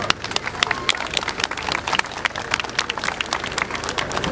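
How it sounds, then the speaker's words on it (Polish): An audience applauds young volunteer fire rescuers at a fire station open day in Lubawa, producing continuous, lively clapping with no break across the whole stretch. "Wielkie brawa dla nich."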